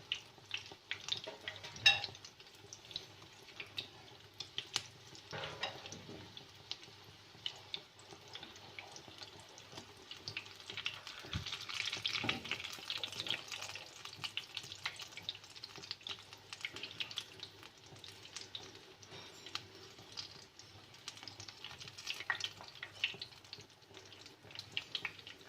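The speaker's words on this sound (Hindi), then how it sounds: "बहुत ही स्लो आंच पे आपने इनको फ्राई करना है।" Beef shami kebabs fry slowly over very low heat in a pan with a faint, steady soft sizzle and hiss, broken by occasional small crackles and pops. Quiet throughout.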